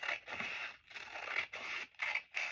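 Scissors snipping through gelli print paper in a straight line: several short, crisp scraping cuts in quick succession, close and fairly quiet, with brief pauses between strokes.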